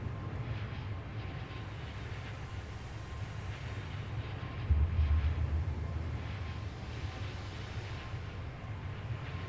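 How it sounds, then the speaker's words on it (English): An Airbus A350 engine drones steadily in Microsoft Flight Simulator 2024. The low, even cabin-like rumble is moderately loud and swells briefly midway, with no talk over it. "You hear the engine?"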